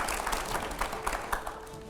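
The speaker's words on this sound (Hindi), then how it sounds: "जोरदार तालियां इसके लिए।" An audience applauds Swami Ramdev at an interview event: moderately quiet, steady clapping from a crowd that spreads evenly through the moment, with a faint voice mixed in.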